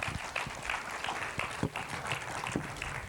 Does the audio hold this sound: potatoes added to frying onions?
no